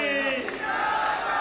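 A rally crowd at Priyanka Gandhi's public meeting in Bilaspur, Chhattisgarh chants a slogan in unison: a brief, loud burst of many voices with no single speaker standing out.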